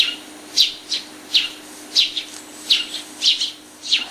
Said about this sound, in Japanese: スズメはうなずくようにチュンチュンと鳴きました。